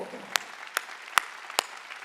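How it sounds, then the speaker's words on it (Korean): Four sharp, evenly spaced claps ring out from a congregation at a Christmas Sunday church service, each one a crisp distinct beat over a quiet background. "박수 치라고. 박수."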